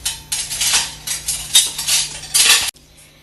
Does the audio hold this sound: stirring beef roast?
yes